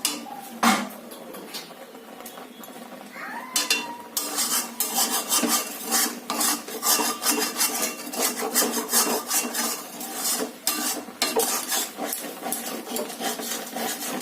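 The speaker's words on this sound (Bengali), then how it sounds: "এবার আমি এই সাইড দিয়ে খুন্তি দিয়ে ভালো করে এই সরগুলো নাড়িয়ে নেব। এবার এইটা আমি অনবরত নাড়তে থাকবো।" Spatula scraping and stirring thickened rabri milk cream in a pan, a steady run of close rubbing and rasping strokes with brief pauses.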